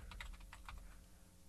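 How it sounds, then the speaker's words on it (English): Quick, faint keystrokes on a computer keyboard, a short burst of several clicks in the first second then trailing off, soft and close with no voices. "I'm going to type in the word average"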